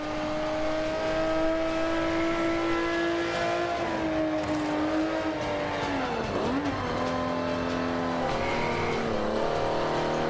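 Ferrari 250 GTO racing around Bathurst in Forza 5, its engine note loud and continuous as it holds steady revs, dipping and rising through gear changes and corners with a brief tire squeal, no talk.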